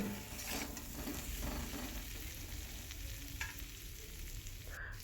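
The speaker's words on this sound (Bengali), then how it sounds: "সব মশলাগুলো দিয়ে দেবো মশলাগুলো দিয়ে ভালো করে নাড়াচাড়া করব" Ground spices with ginger and cumin paste sizzle steadily in a pan as they are stirred for a rohu fish and drumstick curry, with a continuous low frying hiss, occasional scraping and no talking.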